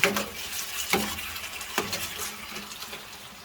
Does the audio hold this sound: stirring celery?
yes